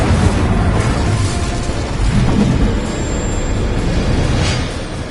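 Spell blasts from Confringo and Bombardo in the Hogwarts Legacy video game. Loud, continuous booming rumble with overlapping bursts and crackle, and no talk in the clip.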